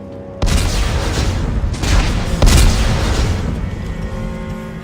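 Explosives detonate in the sci-fi horror video game Dead Space 3: a sudden loud blast followed by a long roaring, crackling rumble, with a second and third heavy boom layered on top as the wash slowly fades.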